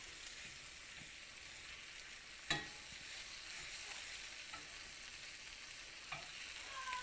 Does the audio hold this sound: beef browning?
yes